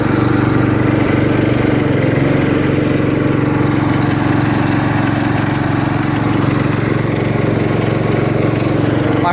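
A 1968 John Deere 110 garden tractor engine runs steadily in first gear, a close, loud, continuous mechanical drone that holds even throughout with no talking.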